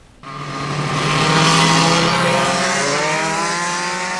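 A 125cc shifter kart races at Whiteland Raceway, a short road course, its high-revving two-stroke engine snarling loudly into the distance and holding a strained, buzzing pitch that shifts slightly as it pulls away.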